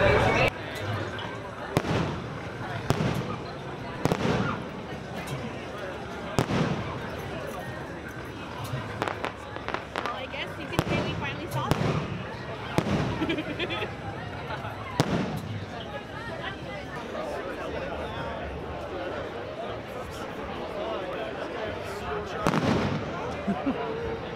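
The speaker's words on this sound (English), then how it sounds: "the fireworks are going off as you can see" Fireworks bursting over Disneyland on the opening day of Star Wars: Galaxy's Edge, a series of sharp booms and crackles at irregular intervals amid crowd noise, with people talking throughout.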